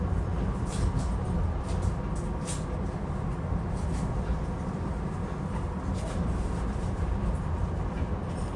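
SEPTA regional rail train running the Doylestown Express line, heard from inside the cab: a steady, loud rumble and rail roar with faint clicking over the whole stretch, no talk.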